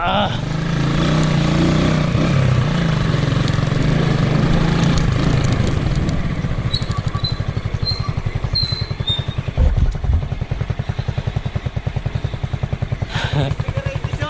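A motorcycle rides off-road along a rough track near Natipuan Cove Beach in Nasugbu, Batangas, its engine droning steadily and then throbbing in a rapid, uneven pulse as it bumps along, close and loud, with wind noise and voices.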